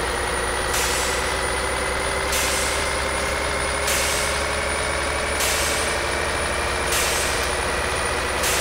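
A 1020 HP Kenworth truck in Euro Truck Simulator 2 idles with a steady heavy engine drone while regular hissing bursts pulse through it roughly every one and a half seconds, loud and continuous with no talk.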